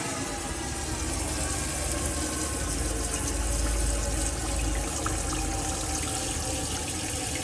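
Warm water runs steadily from a tap inside a Swift Sundance 630L caravan, a continuous close splashing flow with a low rumble, no talking over it.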